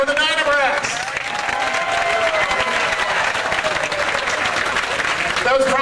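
A crowd at a Seven Springs event gives sustained, loud, dense applause mixed with cheering and whistles for a drum performance group, steady throughout, with a voice audible at the start and end.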